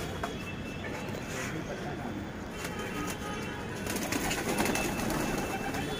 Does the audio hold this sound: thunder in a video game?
no